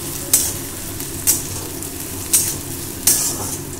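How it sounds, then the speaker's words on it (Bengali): Onion sizzles steadily in a pan over a medium gas flame, a close, constant frying hiss broken by four evenly spaced scrapes of stirring. "পেঁয়াজটাকে আমি একটু হালকা করে ভাজবো, প্রায় 20 সেকেন্ড মতো ভেজে নেবো"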